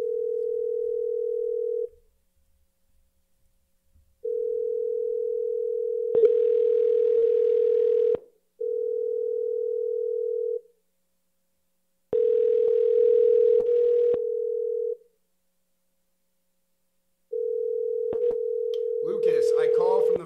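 While a call is being redialed, a steady telephone dial tone sounds in repeated long stretches separated by silent gaps, with a faint crackle of line noise during some stretches.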